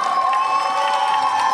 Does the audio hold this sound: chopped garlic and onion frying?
no